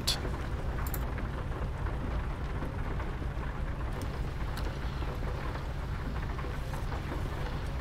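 Steady nighttime rain in a driving video game pours down in a continuous hiss with a low rumbling undertone and a few sharper crackles, no voices.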